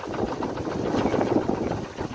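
A Sundanese kolecer, a wind-driven bamboo propeller noisemaker used by farmers, gives a dense, steady rumbling whir in strong wind, loud and continuous throughout.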